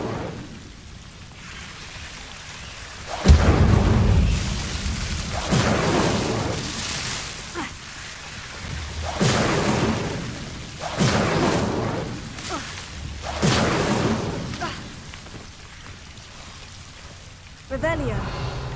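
Incendio fire spells cast in the Hogwarts Legacy video game, a series of roughly five whooshing, roaring fire bursts a couple of seconds apart, loud and close, over a quieter rainy background.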